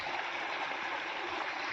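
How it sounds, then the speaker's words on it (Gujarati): Clear spring water flowing down from the hills in a small stream, a steady soft gurgling rush at close range, continuous and free of talk. "તો આ બાજુથી આવે છે પાણી, ઉપર ડુંગર બાજુથી જ આવે છે"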